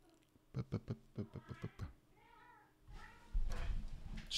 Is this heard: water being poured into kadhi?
no